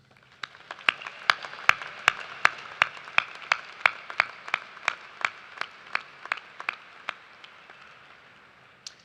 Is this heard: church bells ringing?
no